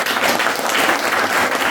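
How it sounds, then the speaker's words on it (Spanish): A brief burst of audience applause, steady and full throughout, dense clapping from a sizable crowd with no voices standing out. "Un aplauso para ellos."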